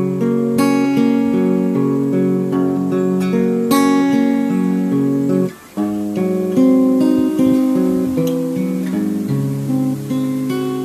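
An acoustic guitar plays the arpeggiated parts of a song in a steady, ringing picked pattern, clear and close with one brief pause midway, no voice.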